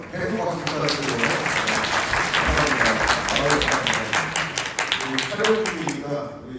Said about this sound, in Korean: 계속 박수 부탁드리고요.